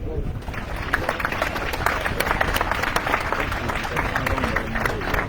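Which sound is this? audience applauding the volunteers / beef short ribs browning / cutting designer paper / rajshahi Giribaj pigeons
audience applauding the volunteers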